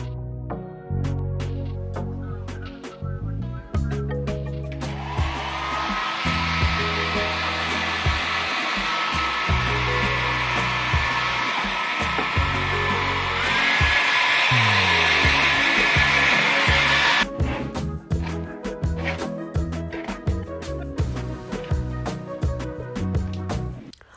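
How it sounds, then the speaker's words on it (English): A hair dryer blows on a wig, running as a loud steady whoosh for about twelve seconds, with clattering handling noises before and after. "So that's why I went on and blow dried the hair"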